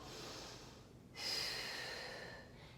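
A long, forceful exhale through the nose or mouth during a Pilates mat exercise, a breathy rush that starts abruptly, holds for over a second and tapers off, preceded by a softer inhale.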